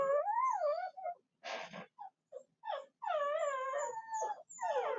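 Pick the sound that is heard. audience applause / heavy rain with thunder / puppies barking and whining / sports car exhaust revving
puppies barking and whining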